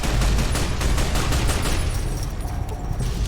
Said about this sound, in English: Man, there is just explosion after explosion.